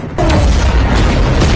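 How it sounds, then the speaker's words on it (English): A single loud, deep boom from a giant cannon bursts out and rumbles for over a second before cutting off abruptly. "I'm going to blast huge holes through the bottom of that boat with this giant cannon"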